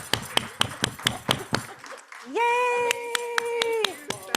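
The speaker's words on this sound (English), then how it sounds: "Round of applause for Maudeleine." Several claps from a small gathering at a celebration, a quick run of sharp hand hits fading out before a singing voice takes over.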